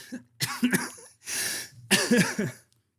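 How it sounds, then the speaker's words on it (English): A sick person coughs several times in short, harsh bursts close to the mic, with a longer raspy stretch in the middle and quiet gaps between. "I'm sweating and I'm coughing."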